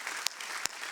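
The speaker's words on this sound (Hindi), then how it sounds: "जोरदार तालियां हो जाए" A studio audience at a kids' talent show claps in a dense, steady wash of applause, with two sharper claps standing out over the crowd.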